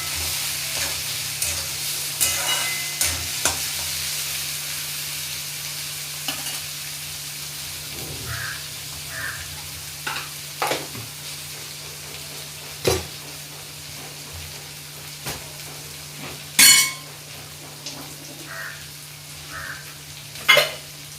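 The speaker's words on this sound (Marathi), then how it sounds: "1 चमचाभर उडदाची डाळ घातली आहे. परतून घेऊया." Urad dal sautéing in a pan for upma makes a soft, continuous frying hiss, broken by intermittent spoon scrapes and clinks against the pan.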